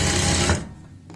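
A sewing machine stitches palazzo pant fabric in a fast, steady, close-up whirring run that stops abruptly partway through, leaving near silence.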